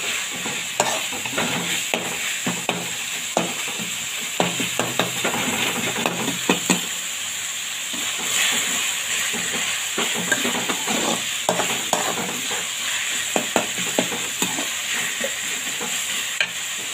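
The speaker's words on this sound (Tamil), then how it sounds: "சேர்த்து நல்லா வதக்கி வச்சுக்கலாம்." Prawn gravy sizzles steadily in a hot pan while a spoon scrapes and stirs it, leaving frequent sharp clicks across the continuous frying hiss.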